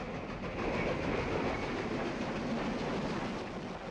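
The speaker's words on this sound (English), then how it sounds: "This train seems to be an all-mail and express train, with just a pair of rider coaches on the end." A mail and express train with a Railway Post Office car and a pair of rider coaches rolling past on the NWP railroad, a steady rumbling roar of wheels on rails at moderate distance, continuous throughout.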